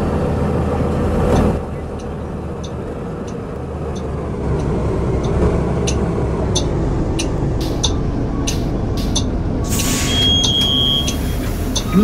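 TTC 2018 Nova Bus LFS city bus driving on route 81 Thorncliffe Park, a steady loud engine and road rumble heard from inside, with a brief rise near the start and faint rattles and clicks later.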